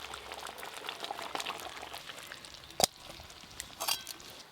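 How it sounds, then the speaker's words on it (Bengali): Thick syrup for a village-style raw mango jelly pickle keeps bubbling in a pan just taken off the heat, with soft continuous simmering, scattered pops and a couple of louder bursts, close by. "কোড়াটা নামানোর পরও দেখুন কি সুন্দর এখনো ফুটছে।"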